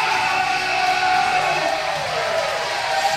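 At a pro wrestling show, the crowd cheers for Riley after his spin-kick win. The roar is loud and steady across the arena and does not let up.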